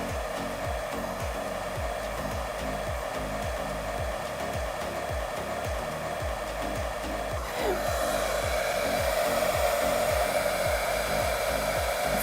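A hair dryer blows a constant, loud airy hiss with a fast rhythmic rattle underneath, shifting slightly in tone partway through as the airflow changes.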